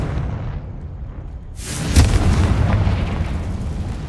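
A Confringo blasting spell goes off in Hogwarts Legacy, a single booming explosion after a quiet low hum, followed by a sustained rumbling roar that slowly fades.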